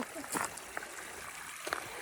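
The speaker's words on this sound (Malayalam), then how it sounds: "ചെറിയൊരു അരുവി ഉണ്ട് പക്ഷെ അതിന് അലാക്കിന്റെ സൗണ്ടാണ്" A small stream rushes loudly beside a tree-lined path, a constant wash of flowing water with small splashes and voices faintly mixed in.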